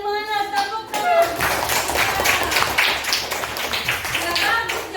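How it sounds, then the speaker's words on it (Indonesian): A classroom of children clapping together, a dense burst of close, rapid applause that follows an adult's brief words and continues to the end. "Tepuk tangan."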